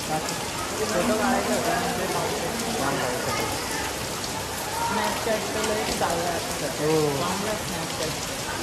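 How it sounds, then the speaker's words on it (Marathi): Heavy rain pours steadily around a temple visit at Pali, a dense continuous patter on surfaces, with people talking over it throughout. "जाम पाऊस आहे।"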